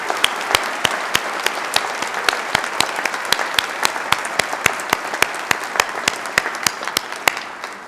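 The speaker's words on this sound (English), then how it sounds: "So maybe a round of applause for all our staff and volunteers who help us out." Applause for staff and volunteers at a university convocation ceremony, a broad steady roar of many hands clapping together, with a few sharp individual claps standing out in an even rhythm throughout.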